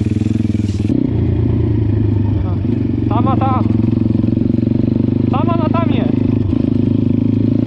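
A Pitgang 140xd pit bike engine drones steadily at low speed during a calm ride, close and loud, with a rider talking over it and some rattling and scraping.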